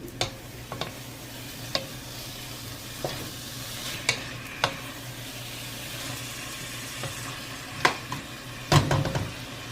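A pot of vegetable soup with beef and large cucumber pieces is stirred, giving a steady bubbling bed broken by irregular sharp clicks and knocks of a utensil against the pot, with no talking.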